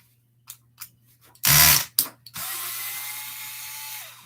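A power tool backs the six countersunk screws out of a Traxxas Revo transmission case, with short bursts of whirring followed by a longer steady buzz, close by and loud against a quiet background.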